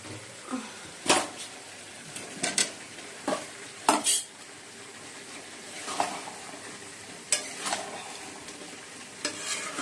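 Potatoes going into a hot pan and frying, with a soft steady sizzle beneath sharp scraping and clattering stirs from a utensil against the pan, close and irregular, and no one talking.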